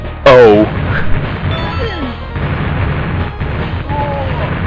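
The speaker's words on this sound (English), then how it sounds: "I got these bombs, which blow up everything" Bombs blowing up in Spinmaster, the 1993 Data East arcade platformer on Neo Geo MVS: one loud, sharp blast opens the stretch, followed by lighter game effects and chirpy sounds over continuous background music.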